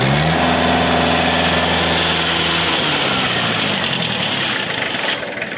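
A Mitsubishi MT1801 Japanese mini tractor with a tiller attachment runs on hand throttle, its engine loud and close, droning steadily and then shifting lower in pitch partway through.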